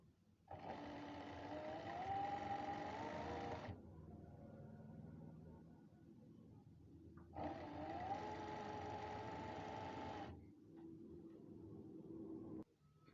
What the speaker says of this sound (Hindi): अब एंड पे भी इसकी सिलाई जो है ज़्यादा कर लेनी है इस तरह से